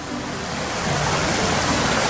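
Snowmelt runoff rushes near Copeland Falls in Rocky Mountain National Park, a loud, broad, continuous roar of churning water that swells slightly and carries no speech.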